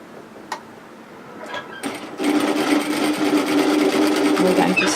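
A sewing machine starts up after a few faint clicks and runs steadily, stitching down a hem on a spliced cowl-neck top, its motor hum and rapid needle chatter continuing close and even to the end.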